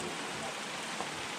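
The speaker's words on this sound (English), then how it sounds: "it just started pouring rain" Heavy rain pouring down in a Colombian rainforest near Minca, a steady dense hiss of falling water throughout, faint and continuous with no voices.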